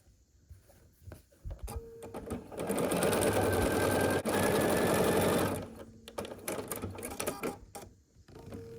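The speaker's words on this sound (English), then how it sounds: "So we're sewing here with 1/4 of an inch seam allowance" A sewing machine runs steadily for a few seconds, stitching a quarter-inch seam on a granny-square variation quilt block, with quieter handling sounds before and after.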